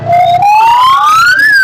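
Siren of a fire brigade truck arriving at a crowded event in Raghunathpur, a loud, close, steadily rising wail that climbs in pitch and then dips near the end, heard alone without talk.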